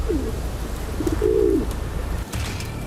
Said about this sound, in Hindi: ये तो कबूतर जैसे किसी पक्षी की आवाज लग रही थी